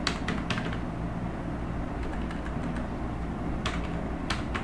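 Keys clatter on a computer keyboard as text is typed into a word processor, a steady run of soft clicks against a constant background hum, with no talking.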